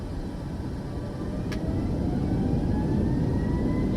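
Boeing 737 engines in Microsoft Flight Simulator 2024 spooling up under auto throttle, a low rumbling roar that swells gradually over several seconds with a faint rising whine, steady and continuous without talk.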